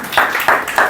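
Clapping from a small audience at student presentations, heard as a few close, rhythmic hand claps in quick succession.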